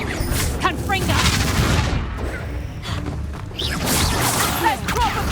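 Confringo fire spells detonate in the Hogwarts Legacy video game, a dense run of booming blasts and crackling impacts over game music, with brief voice lines woven through.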